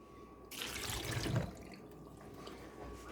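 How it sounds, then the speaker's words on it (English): Canned green beans and their liquid dumped into a pot, a short wet splashing pour lasting about a second, quiet and close, then fading drips. "We're going to dump those green beans down in there."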